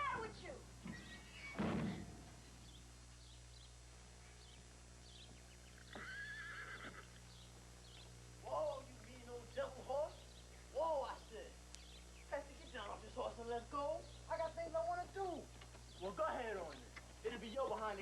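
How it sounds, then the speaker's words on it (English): A horse neighs loudly near the start, followed by scattered hoof clops and some thumps while people talk over the scene. "Pesky, tell that horse to hold it"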